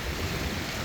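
Sea water churned by a strong thermal wind rushes and hisses in a dense, steady wash, with wind buffeting the microphone.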